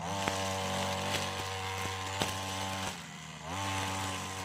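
Trolley-type brushcutter cutting weeds close to the ground, its small engine droning loudly and steadily with brief dips in pitch as it bites into growth, alone without voices.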